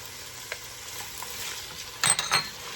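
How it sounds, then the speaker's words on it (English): Chopped pepper, celery, onion and minced garlic cook softly in a pot with a faint sizzle, then a couple of brief scraping stirs rise up near the end. "we're just going to stir that and let it start to soften"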